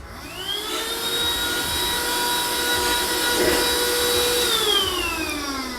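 A VacLife VL756 handheld cordless vacuum cleaner runs steadily and loudly close by, its high motor whine rising as it spins up and holding constant throughout.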